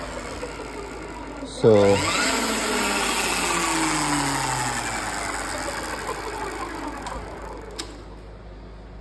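An Electric Motion electric trial motorcycle with a street-legal dual-sport kit, its electric motor whining under throttle with a rising then falling tone, close and steady for several seconds while a person briefly speaks.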